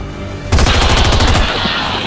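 Rapid automatic gunfire from XCOM 2: War of the Chosen bursts in suddenly after a brief quiet and continues as a loud, dense rattle of shots to the end, with game ambience beneath.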